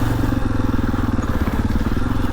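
A Husqvarna FE 501 four-stroke dirt bike rumbles steadily and loudly up close, a dense throbbing engine note held throughout while riding a trail loop through pine woods.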